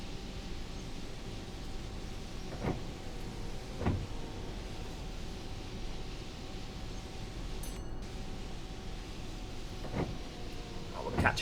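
A bus driving in the OMSI 2 simulator rattles constantly under a steady engine and road drone, with a few sharper knocks and clinks spaced seconds apart.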